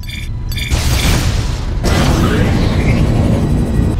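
Missile blasts in the space combat game Galaxy Rebels, a couple of short beeping tones followed by deep rumbling booms that swell and roll on, loud and close.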